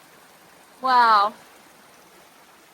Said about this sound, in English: The overcast and like rain, it rained a bit, has made this whole little, this waterfall so beautiful, look.